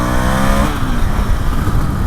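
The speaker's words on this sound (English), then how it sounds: "So that was just a little third gear pull." An Indian FTR1200 S motorcycle with an Akrapovic exhaust pulls hard in third gear, a loud, close engine note rising in pitch before easing off into a rougher rumble with wind noise.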